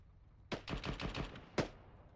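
A rapid burst of gunfire, about six sharp cracks in quick succession followed by one more separate shot, rings out during a military convoy field training exercise; no speech.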